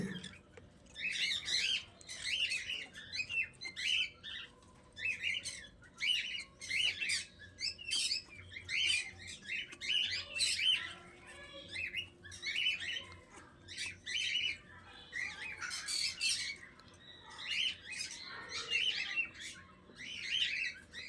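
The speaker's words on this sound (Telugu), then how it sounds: "అన్నీ వచ్చి ఎంత బాగా తింటున్నాయి చూడండి బర్డ్స్" Small birds chirp and squawk busily in a steady stream of short bursts, close by and fairly lively throughout, with no voices.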